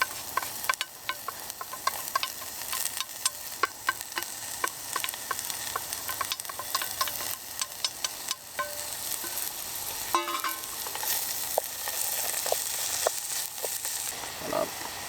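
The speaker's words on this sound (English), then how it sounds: "So onions, garlic, chili and anchovies down in the pan for a couple of minutes" Onions, garlic, chili and anchovies fry in hot oil in a pan on an outdoor Trangia camping stove, giving a steady close sizzle crackling with frequent sharp pops and occasional stirring scrapes throughout.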